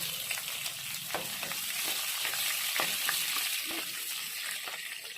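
Onions fry in oil with cumin, mustard seeds and urad dal for a bottle gourd fry, making a dense close crackling sizzle with intermittent spoon scrapes and taps, heard alone without voices.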